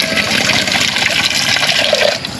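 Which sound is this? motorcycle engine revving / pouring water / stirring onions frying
pouring water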